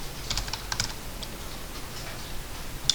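Computer keyboard keys tapped while entering numeric values and pressing Enter in AutoCAD, short clustered clicks up close at a moderate level, quieter scattered taps following.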